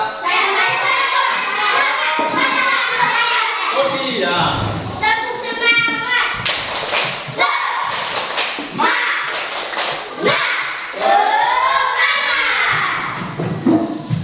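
Schoolchildren in a classroom clap out a rhythmic spirit cheer, sharp bursts of claps mixed with loud chanting and shouting voices throughout.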